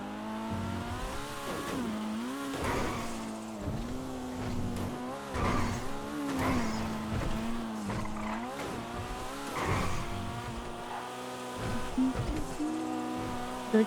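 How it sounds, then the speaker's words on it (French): A fast car in a roleplay video game revs and shifts its engine pitch over and over, with repeated tire squeals and skids. The engine drone is continuous, steady and mid-level, with no voices. "Bah oui, c'est une voiture qui va vite."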